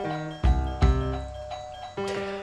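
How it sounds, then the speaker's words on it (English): A doorbell chimes, with several bright, ringing tones struck in a short sequence, each decaying with sustained harmonics, heard indoors and clearly on its own. "Thank you, doorbell."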